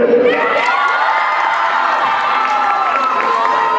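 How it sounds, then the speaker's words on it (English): Students at a school pep rally cheer and shout for a contestant, a loud, continuous crowd roar with scattered whoops and some clapping, filling the space without pause. "Make some noise for Elliot."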